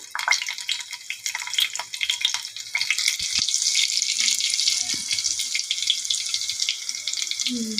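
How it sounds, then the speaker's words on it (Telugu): Hot oil sizzles loudly and steadily as dried red chillies, cumin and curry leaves are tempered for fish curry, a bright crackling hiss that swells after a few seconds and continues without pause. "తాలింపు పెట్టేసుకున్నాం"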